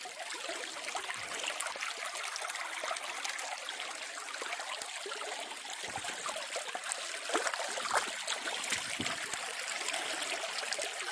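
Shallow river water pours over a gravel bar in a constant, nearby babble, its trickles and small splashes shifting but never pausing across the whole stretch.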